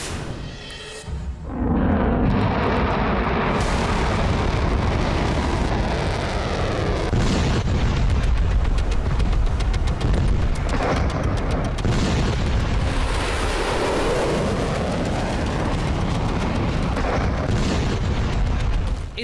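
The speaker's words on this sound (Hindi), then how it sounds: "मिसाइलों और बमों के हमलों में इजराइल और ईरान दोनों ही शहर खंडर बनते जा रहे हैं।" Missile and bomb explosions in the Israel–Iran war, heard as heavy booming blasts and rolling rumble that sustain loudly throughout, with no clear pauses.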